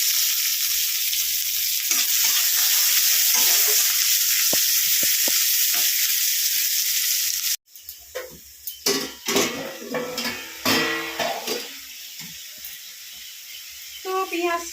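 Onions and green chilies fry in a pan with a loud steady sizzle for about half the time, then it drops away to clanks of a utensil against the pan and scattered stirring sounds, with voices talking.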